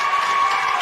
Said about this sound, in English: Round of applause for Tracy.